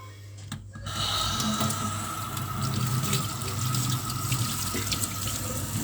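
A kitchen tap runs steadily over cured bacon being rinsed, with a constant splashing water stream after a brief start and a low hum beneath, close and alone.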